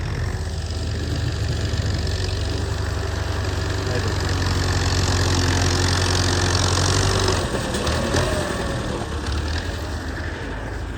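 A tractor without a roof idles loudly and close, its engine holding a steady low rumbling throb that eases slightly near the end.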